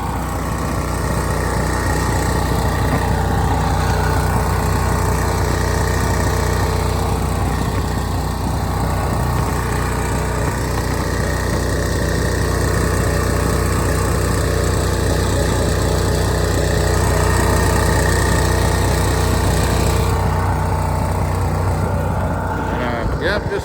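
A new Champion portable generator, fitted with a wheel kit and fresh oil, starts and runs in a loud, steady, close drone that holds for the whole stretch and then cuts off near the end.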